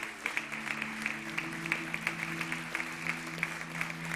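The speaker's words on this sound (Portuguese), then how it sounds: "Aí você pode aplaudir ao Senhor" A church congregation at an evening celebration service claps, a steady rhythmic round of applause over a sustained low musical drone.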